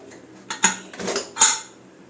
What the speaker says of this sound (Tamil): நம்ம குக்கரை ஓப்பன் பண்ணிக்கலாம்